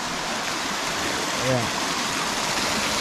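Water from a swimming pool rushes steadily through a drainage channel, a loud, continuous broadband wash close by, with a brief voice-like sound partway through.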